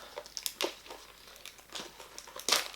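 A plastic blind-bag toy package being opened, with several short crinkling and tearing bursts of plastic close by, the loudest near the end, and no talking.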